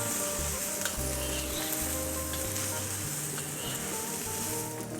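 Salted fish hitting a hot pan gives a steady, close sizzle that runs unbroken for the whole stretch, with faint hum beneath and no talking.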